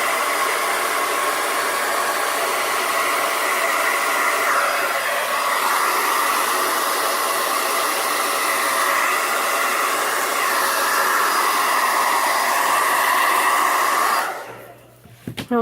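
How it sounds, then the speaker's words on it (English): A handheld blow dryer blasts steadily at close range over freshly poured acrylic paint, a loud continuous whoosh that holds for about fourteen seconds before cutting off abruptly. "I'll go back and forth between blow drying, putting the paint on until I end up with a composition that I like."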